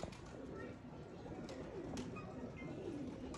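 Pigeons coo softly in low, rolling murmurs, with faint background chatter around them.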